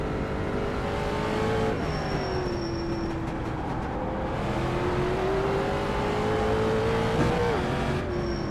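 A damaged Street Stock race car in iRacing on a roval circuit, its engine droning steadily in top gear with slight pitch shifts and continuous road and wind noise throughout.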